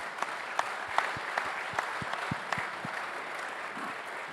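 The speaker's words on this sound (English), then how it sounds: "If we could have a round of applause for our franchise panel" A live audience applauds a franchise dealer panel at an automotive industry conference, steady clapping spread through the room with a few sharper individual claps standing out, moderately distant and with no talking.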